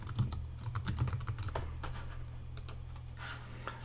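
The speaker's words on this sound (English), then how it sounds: "So let's add some text in. If I can type properly." A computer keyboard typed on in rapid, steady bursts of soft clicking, close and fairly quiet, with no talking over it.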